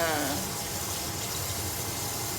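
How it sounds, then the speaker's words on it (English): Cold water running steadily from a tap into a kitchen sink, a continuous broadband splashing rush that stays even throughout, fairly close. "I'm going to run some cold water in my sink to try to get the soap out"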